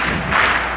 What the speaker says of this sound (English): getting the possible strikeout clap going